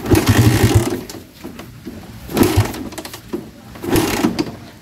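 A Raider 150 motorcycle that stalls and is hard to start cranks in three close, loud bursts of rapid mechanical chattering, each fading off into a quieter pause before the next attempt.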